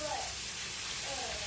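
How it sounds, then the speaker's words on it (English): Bacon frying in a pan gives a steady, close, bright sizzling hiss that runs unbroken through the whole moment, with no clear talk over it. "I'm still working on frying up this bacon."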